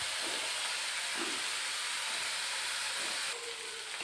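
Onions sizzle and hiss steadily in hot oil with bay leaf, nutmeg, mace and a cinnamon stick, a continuous close frying hiss with soft crackles.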